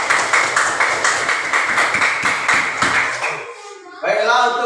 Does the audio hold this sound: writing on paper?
no